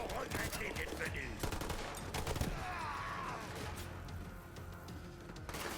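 Gunfire in the video game Borderlands 3: dense, continuous automatic weapon bursts and shots fill the mix at steady loudness, with crashes and other game effects layered in.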